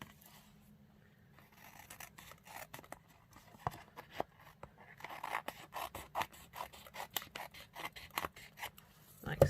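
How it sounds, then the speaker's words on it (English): Scissors snip and crunch through a piece of stuck-on patterned card during wedding card making, starting as faint scraping and building into a quick run of sharp, close cuts. "So let's just cut this piece off here."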